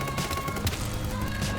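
Rapid Desert Eagle pistol fire in Battlebit Remastered, a dense dense burst of sharp game gunshots running continuously and loud with no talking.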